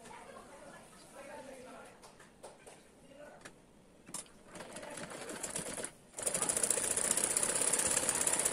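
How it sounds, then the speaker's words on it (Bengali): A sewing machine stitches a tuck seam on a lehenga top blouse, its steady whirring rising to a loud continuous run after a few quieter, intermittent bursts. "মোট 1 ইঞ্চি বরাবর আমি টেকিংয়ের জন্য সেলাই করে নিব।"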